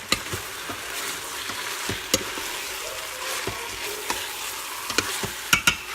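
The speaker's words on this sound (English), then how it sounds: "Let me stir this one more time." A spoon stirs chicken soup in an Instant Pot, giving irregular sharp clicks and scrapes against the pot over a soft, steady bubbling sizzle, close up and with no voices.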